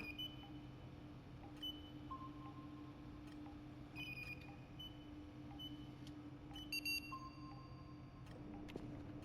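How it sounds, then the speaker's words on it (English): Quiet electronic beeps and short tones from the video game Voices of the Void ring out sporadically over a low steady hum, with no talking. "I assume that beeping noise means we did it."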